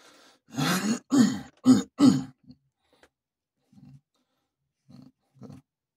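Several harsh throat-clearing coughs from someone in a dusty room come in a quick close cluster, followed by a few quieter short grunts and coughs after a pause.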